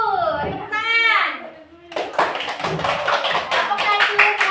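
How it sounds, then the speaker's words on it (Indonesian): A classroom of children clapping together, a burst of hand claps breaking out after a teacher's spoken cue and continuing under light chatter. "Tepuk tangan."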